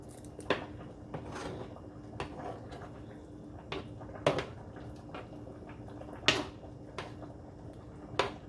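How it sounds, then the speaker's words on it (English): A spoon stirs lobster alfredo pasta in a pan on a hot stovetop burner, giving soft scraping and intermittent sharp clinks of metal against cookware, with quiet wet shuffling between the louder taps. "I'm going to take my spoon and I'm going to just stir this together"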